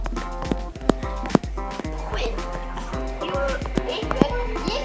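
Horse hooves clip-clop in sharp, irregular strikes close by, heard over a steady tonal background with voices.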